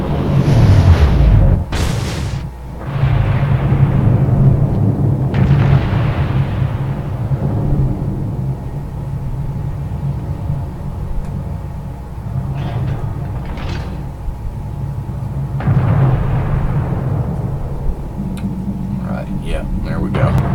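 Deep booming salvos of naval gunfire and shell explosions in a warship video game, with a big blast at the start and rumbling impacts later, under steady engine hum and a talking voice.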